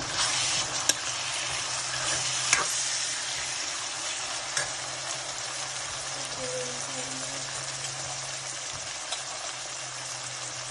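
Tomatoes added to fried onions sizzle steadily in a pan while cabbage is being cooked, a constant close crackle with occasional faint clicks and brief stirring.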